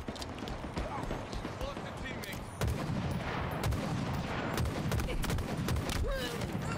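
Gunfire from a gun in Halo Infinite crackles in rapid, dense bursts over steady battle noise, with a voice talking over the shooting.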